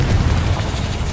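Incendio fire spell cast in the Hogwarts Legacy video game: a loud, sustained low rumbling whoosh of flame, steady throughout the brief moment with no voice over it.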